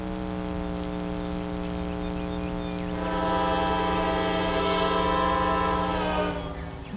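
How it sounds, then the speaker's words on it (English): Train in the Trainz railway simulator game running onto a branch line, with a steady engine drone and a long sustained horn blast that swells louder midway, alone with no talk. "And now our train is entering in the Cornetsville branch."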